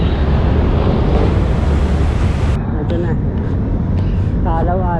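Strong wind buffets a microphone outdoors near Rizal Park in Manila, a loud continuous roar that drops away partway through, leaving traffic and distant voices; someone talks over it.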